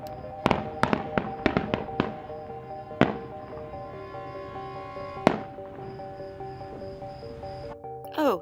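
Sharp Fourth of July firework bangs pop in a quick cluster, then a few scattered blasts follow, with a faint steady tone and some voices in the background.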